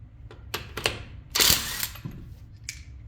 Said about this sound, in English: This is how fast this torque wrench works